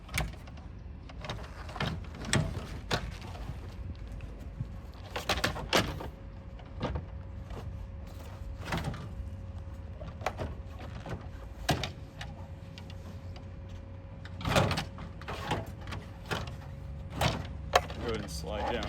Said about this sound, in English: you can slowly start working it back and making sure that all the ribs are going down evenly